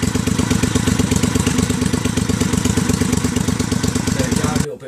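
A loud, throaty motorcycle exhaust with baffles removed idles with a rapid, uneven burble, close by, then cuts off abruptly at the end.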